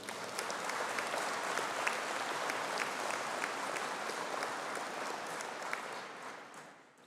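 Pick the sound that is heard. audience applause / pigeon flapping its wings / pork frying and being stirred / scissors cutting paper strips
audience applause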